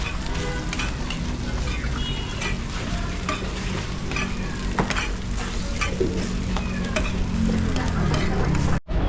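Paratha being chopped up on a hot griddle in a busy roti kitchen: a continuous sizzle and fry with rapid, irregular metallic scraping and tapping, close and steady, ending abruptly.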